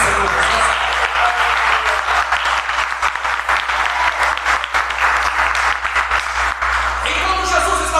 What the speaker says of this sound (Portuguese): Será que você pode aplaudir o Senhor Jesus?